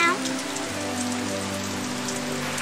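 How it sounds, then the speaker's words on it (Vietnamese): Rain falling outside, a steady soft patter across the whole stretch, fairly quiet and even, with faint tonal sounds in the background. "Ồ, ngoài kia trời mưa lạnh, mà sao tớ thấy ấm áp quá."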